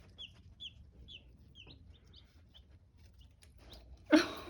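Young backyard chicks, including little Easter Eggers, give a run of soft, high peeps and clucks, faint and close, ending in a brief loud burst of handling noise.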